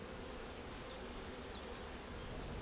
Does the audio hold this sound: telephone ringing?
no